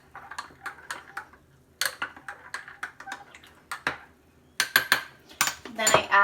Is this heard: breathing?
no